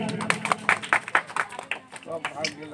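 Audience clapping at a school Republic Day award ceremony: scattered, uneven claps in quick bursts from a nearby crowd, mixed with voices throughout.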